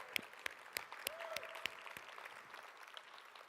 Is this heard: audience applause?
yes